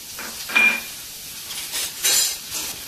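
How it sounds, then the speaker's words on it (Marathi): Onion being sautéed in oil in a pan for Maharashtrian potato bhaji, with a soft continuous sizzle and a few spatula scrapes and stirs that come and go at close range without speech. "आता आपण कांदा चांगला परतून घेतलाय"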